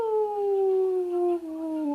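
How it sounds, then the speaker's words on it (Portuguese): A pet dog howls in a long, steady, drawn-out wail that slides slowly downward in pitch, with a brief break near the end, close and clear with no talking. "Tipo a minha cachorra latindo, que ela vê algo e começa a latir"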